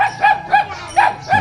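A dog barks in a rural Thai village on a cold-season day: five quick, yappy barks in a steady rhythm, fairly close and clear, with no talking.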